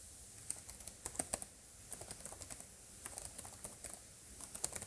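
Light, quick keystrokes clatter on a budget laptop keyboard in irregular bursts, close and fairly quiet, with short pauses between runs of typing.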